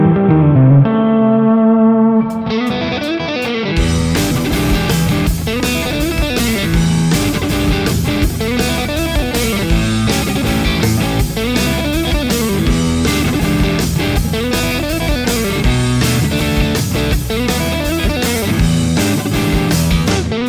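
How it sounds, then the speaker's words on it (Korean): Electric guitar played through a BOSS Katana-50 MkII amp with its spring reverb effect on, a loud, sustained distorted riff with washy, lingering tails, opening with a few clean ringing notes before the full strummed part kicks in. "스프링 리버브 들어보겠습니다."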